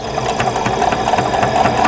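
A sewing machine runs steadily, stitching a quilt block seam with a quarter-inch seam allowance, with its rapid needle rhythm close and fairly loud and no talk.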